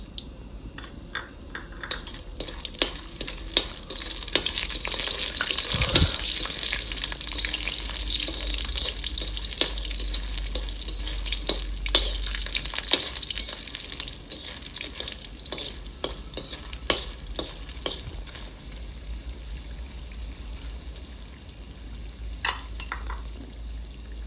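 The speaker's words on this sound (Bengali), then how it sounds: "তেল দিয়ে দিচ্ছি। প্রথমে বড়িটা ভেজে নেবো।" Lentil dumplings (bori) fry in oil, a low steady sizzle broken by frequent sharp scraping and stirring clicks from the pan, with a louder knock early on.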